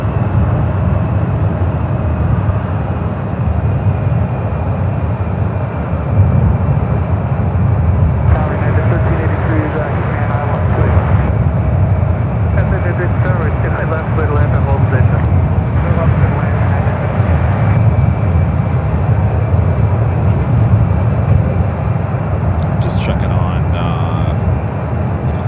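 A jet airliner pushes back from the gate at San Francisco International Airport, giving a loud, steady engine rumble with a broad roar that holds for the whole stretch, alongside continuous outdoor background noise.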